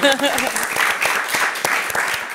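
Short applause rises in a podcast studio setting, a brief patter of claps following a voice at the start, with scattered louder hand strikes through the rest.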